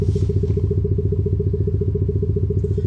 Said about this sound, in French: Et on a différents sons de moteur.